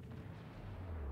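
A ship's broadside fires shells in a naval video game, producing a deep rolling boom of heavy guns that builds into a low rumble with no voices.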